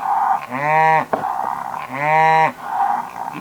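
A cow moos twice, two long, loud, drawn-out calls close by, separated by a short pause.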